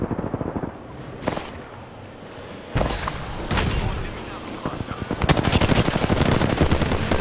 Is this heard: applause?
no